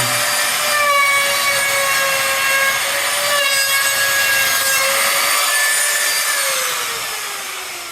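A router guided by a jig cuts old putty out of a wooden window frame, giving off a loud, steady, high-pitched whine. The tone holds evenly across the pass and eases off slightly at the end.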